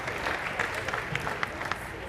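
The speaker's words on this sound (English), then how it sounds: "let's get a round of applause for that" Spectators at the youth female open archery finals of the Lancaster Archery Classic give scattered, fairly faint clapping in a large hall, with a few sharper claps standing out over the crowd murmur.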